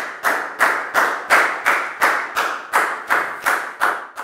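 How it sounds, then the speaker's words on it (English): Classroom clapping in a slow, even rhythm, about a dozen sharp group claps spaced roughly a third of a second apart, loud and close with no talk. "Big round of applause for Down"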